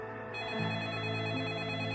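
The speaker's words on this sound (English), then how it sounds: "Andre's sister, Yelena, gets a phone call she's long been fearing." Telephone ringing for an incoming call, a sustained electronic ring tone with a steady pitched buzz, fairly close and alone.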